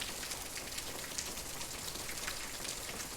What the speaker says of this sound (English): let's cue the rain sounds.